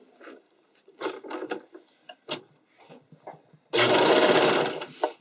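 A sewing machine stitches elastic into a garment armhole, with a loud, dense burst of stitching about a second long after a few quieter taps and handling sounds.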